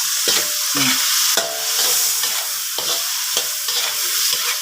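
Bean sprouts stir-fried with tofu and fish strips in a hot pan, a continuous close sizzle broken by repeated scraping strokes of the spatula, with no voices.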